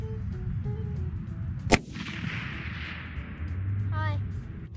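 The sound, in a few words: Winchester Model 70 .300 Win Mag rifle shot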